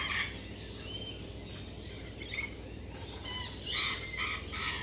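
Small nectar-eating parrots such as lovebirds squawk in a series of sharp, bright calls, growing busier and louder toward the end, close by with no talk over them.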